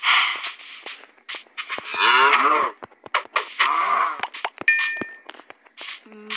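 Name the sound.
cow mooing in Minecraft video game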